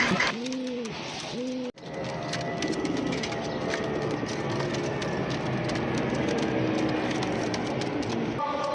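Pigeons coo at a bird and pigeon market, with a couple of low, rolling coos near the start and again at the end over a steady background of chatter and crowd noise.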